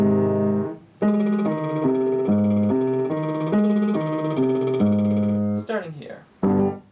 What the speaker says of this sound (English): Final lip trill exercise,